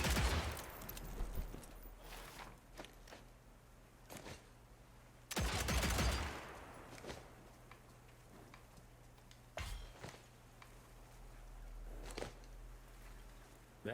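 Revolver fire in Evil West, a cowboys-and-vampires video game: scattered single loud shots spaced a few seconds apart, one heavier blast midway, over a low steady hum with occasional talk.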